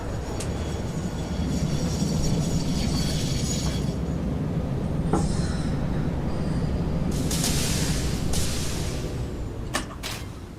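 A train pulls into a station in a factory-building video game, a sustained low rumbling roll with a few sharp clanks and bright metallic bursts near the end as it comes to a stop.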